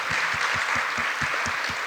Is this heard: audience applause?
yes